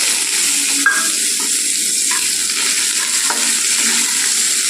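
Onion, green chilli and a bay leaf fry in hot oil with a loud, continuous sizzle, broken by a few scraping clinks as the mixture is stirred in the pan.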